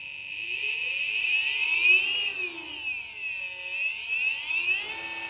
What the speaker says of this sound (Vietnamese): Hiện tại là mình đang chạy 29V này. Để thử test với cái motor này nhé.